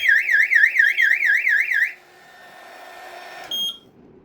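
A heat detector on a conventional fire alarm system sounds a loud warbling electronic alarm, wailing in a rapid up-down pattern for about two seconds, then stops, followed by a quiet hum and a short beep.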